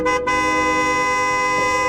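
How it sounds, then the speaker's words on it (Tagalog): A car horn sounds in one long, steady, loud honk lasting nearly two seconds, nearby and with no talking. "Bigla siyang nagising nang biglang may bumusina ng sasakyan."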